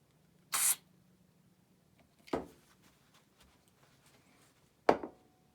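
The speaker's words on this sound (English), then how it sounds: "We use some brake cleaner on that." Brake cleaner sprayed through a hole in a Glenfield 30 rifle action part into a rag: three short, sharp hissing bursts spaced a couple of seconds apart, close and fairly loud against a quiet background.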